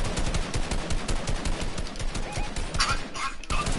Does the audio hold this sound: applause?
no